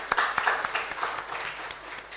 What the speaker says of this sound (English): a hand clap for him